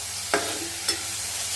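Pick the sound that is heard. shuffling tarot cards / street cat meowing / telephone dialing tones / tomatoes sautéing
tomatoes sautéing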